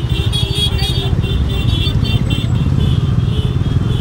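A steady roar of motorcycle engines rumbles close by as a line of bikes moves in a college rally procession, continuous and loud with no pauses.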